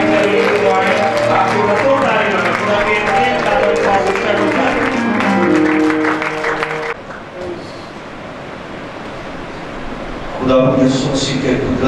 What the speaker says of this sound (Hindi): हम जोरदार तालियों में इनवाइट करेंगे